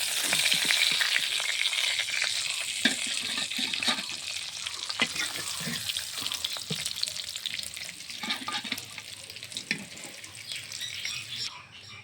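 Oil left in a kadai after frying eggs keeps up a continuous close sizzle with crackles and scattered stirring clinks, with no voices.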